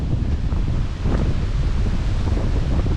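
Wind gusts at a lookout in Lamington National Park, a loud, steady rumbling rush buffeting the microphone, dipping briefly before surging again, with no voices.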